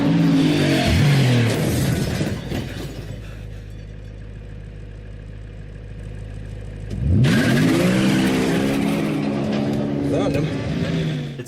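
A car chase from Mission Impossible Rogue Nation: loud engines rev and accelerate with screeching and crashing, then a quieter low rumble with muffled dialogue, before roaring engines surge back in.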